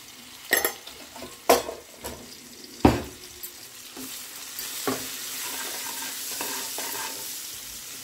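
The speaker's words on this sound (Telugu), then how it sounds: "మిర్చి ఫ్రై అవుతున్నాయి." Green chillies frying in hot oil with turmeric nearby, a soft steady sizzle broken by several sharp stirring scrapes and clinks of a spoon against the pan, close and fairly quiet, no voices.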